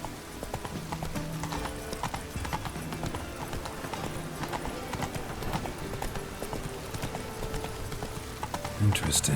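Roach the horse clip-clops in a rapid, continuous gallop in The Witcher 3 video game, with game music and a brief voice underneath the hoofbeats.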